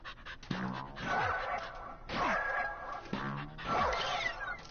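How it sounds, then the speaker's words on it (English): Panting of a dog in the video game LittleBigPlanet, in three rhythmic bursts of quick huffs and breathy gasps with short gaps between, fairly close and moderately loud, with no talking. "Dog."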